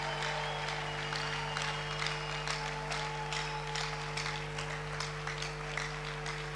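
Congregation clapping during a morning prayer worship service, dense rhythmic applause held steady throughout over a constant low hum, with no talk.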